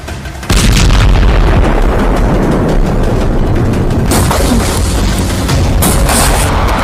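A loud, sustained blast linked to an Israeli Merkava tank being destroyed starts abruptly after a brief quiet moment and rolls on as dense, heavy rumbling with crackling bursts.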